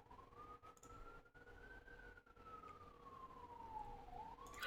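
Ambulance siren passing by at a distance, a faint, slowly rising and falling wail that holds steady for several seconds against quiet background noise.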